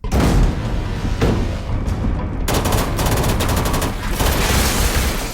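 Gunfire in a movie scene: dense bursts of rapid shots and booms, loud and continuous, with no talk.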